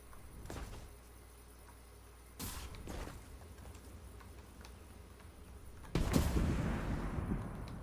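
Two or three sharp, loud gunshot blasts from the video game Fortnite ring out at irregular intervals over a steady background hum, the last one followed by a longer noisy rumble.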